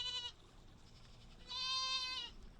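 Goats brought in for weed grazing bleat twice, a short call then a longer wavering one, moderately close against faint outdoor background noise.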